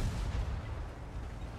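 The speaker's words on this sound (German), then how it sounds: "Da hat er einen schnellen Schuss gemacht" Tank cannon fire in the World of Tanks video game, a single muffled low boom with a rumbling tail, fairly quiet and heard without any talk.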